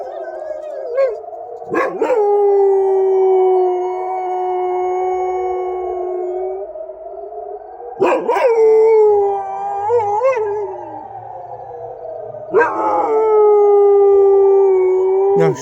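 An air raid siren wails in long steady rises and falls while a dog howls along close by, with brief voices between the howls.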